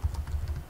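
Quick, even keystrokes on a computer keyboard while a host name is entered during Windows Server 2012 DNS setup, a steady run of close, soft clicks with no talking.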